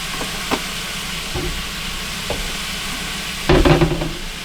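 Squash and green tomato sautéing in a pan with oregano, a soft steady sizzle with scattered stirring clatters and a louder burst of scraping near the end.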